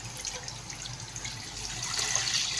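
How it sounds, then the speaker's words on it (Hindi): One litre of milk pours from a container into a greased pan for instant rabri kheer, a steady liquid rush and trickle that swells slightly toward the end, heard alone without talk. "तो अब इसमें मैं 1 लीटर मिल्क डालूँगी"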